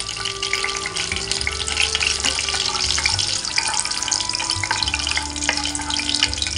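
Fenugreek seeds fry in hot oil as the first step of a Telugu fish pulusu curry, giving a steady, close crackling sizzle throughout with no talk.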